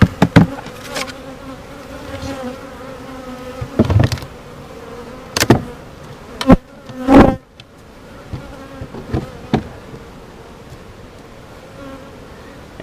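Honeybees buzz close by at a hive in a steady drone, with sharp knocks and clicks scattered throughout and no voices.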